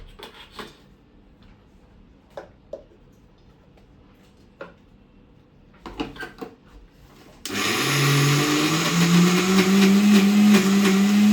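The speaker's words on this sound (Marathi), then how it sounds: "ते डाळ जे आहे आपण मिक्सरला वाटून घेऊया।" Kitchen mixer grinder grinding soaked moong dal for bhaji batter, starting midway with a loud, steady whirring drone after scattered light clinks and handling knocks.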